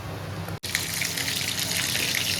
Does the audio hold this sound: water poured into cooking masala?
yes